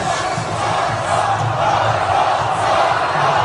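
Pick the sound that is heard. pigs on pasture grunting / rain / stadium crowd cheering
stadium crowd cheering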